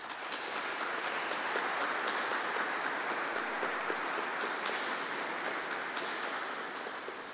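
Sustained audience applause at a community candidates forum in Brisbane, dense steady clapping from a crowd that swells and then tapers off near the end, with no talking over it.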